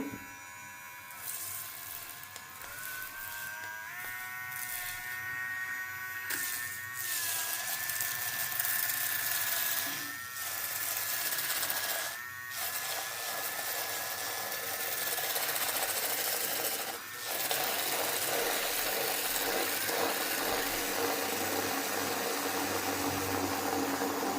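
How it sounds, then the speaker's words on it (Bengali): A handheld milk frother whirs steadily while it blends a cappuccino, a high electric buzz that goes on for over twenty seconds. It dips briefly several times as it is moved, and nobody speaks. "এই ফতার মেশিনটা দিয়ে আমি ব্লেন্ড করে নেব।"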